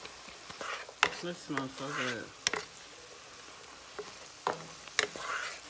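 Shepherd's pie filling sizzles steadily in a pan as it cooks down, a soft continuous frying hiss under a person talking, with a few sharp clicks and knocks of a utensil against the pan.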